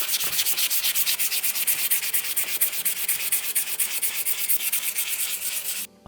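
Wet sanding of a car headlight lens with 800 grit sandpaper, a steady close-up scratchy rubbing in quick back-and-forth strokes, continuous and fairly loud before stopping abruptly at the end.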